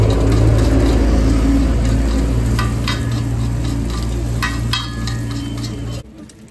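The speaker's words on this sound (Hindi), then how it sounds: "ये बन रही है अंडा घोटाले की रेसिपी। इसमें पहले गया टमाटर और ऐसे मसाले पड़ चुके हैं काफी यार" Egg ghotala with tomato and spices fries on a hot pan at a street food stall in Gola Gokarannath, a loud steady sizzle broken by scraping stirs and light metallic clinks, ending abruptly.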